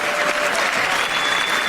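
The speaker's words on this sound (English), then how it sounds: "Now the athletes are calling for more applause." Loud, dense applause from a crowd in the House chamber, cheering athletes with continuous clapping throughout and no pause.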